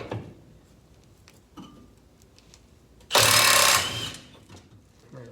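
The last bolt comes out of the steering rack on a 2002 Acura TL-S, with faint clicks and handling noises first, then about a second of loud, close power-tool whirring that winds down.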